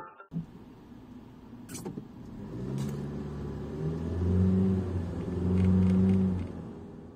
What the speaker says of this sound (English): the sound of the engine inside of the car when we take off